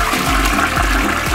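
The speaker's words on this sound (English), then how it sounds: "Flushing time!" A toilet flushes up close, a loud, steady rush of water with low rhythmic surging pulses throughout, on a brightly colored DIY Skittles-themed toilet.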